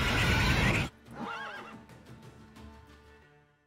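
A horse in The Witcher 3 video game gives one clear, wavering neigh just after a burst of loud noise, then fades with soft hoof sounds.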